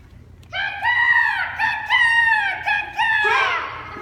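Rooster-like crowing from chickens: several long, loud, wavering calls in quick succession, clear and close, with no talk over them.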